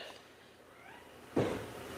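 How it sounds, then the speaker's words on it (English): A young cat lets out a single clear meow partway through, close and loud, rising after a quiet stretch of soft room noise. "he got the nerve to say, meow"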